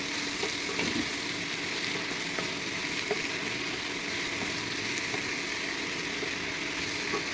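Onions and mushrooms fry in a pan for a curry, giving a steady, close sizzle that carries on unbroken with faint clinks of stirring.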